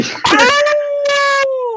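A person's voice imitates a full-on werewolf howl: a loud, drawn-out, wavering cry that breaks briefly, then resumes and slides down as it fades.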